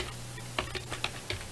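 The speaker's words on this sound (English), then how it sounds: "Let me just finish typing this" Several quick, light keystrokes on a computer keyboard, heard close and alone over a faint steady hum.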